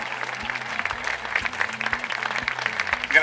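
An audience applauds Carlo Vanzina at a comedy film festival in Manduria, a dense, even clapping that holds steady, close and alone, over a low rhythmic background hum.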